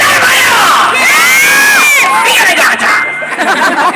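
A loud crowd cheers and shouts at a Filipino gathering, with high-pitched voices yelling and whooping in a sustained roar that eases slightly toward the end.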